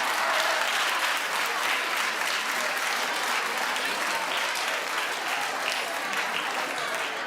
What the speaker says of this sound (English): And Suzanne, I don't even know why you're clapping.